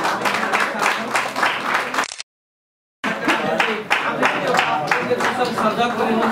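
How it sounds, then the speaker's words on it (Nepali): Applause from a crowd at a Nepali folk and dohori song event, dense continuous clapping that cuts out abruptly for about a second and then resumes just as strongly. "सबैले ताली बजाएर चाहिँ सपोर्ट गर्नुको लागि"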